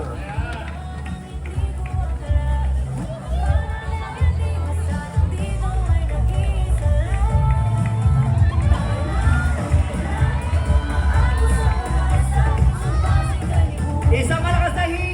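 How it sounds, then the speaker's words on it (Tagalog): A large crowd at a street civic parade for Pasig Day in the Philippines, roaring and shouting loudly in a sustained wash of cheers with voices calling out over the din. "Isang malakas na hiyawan!"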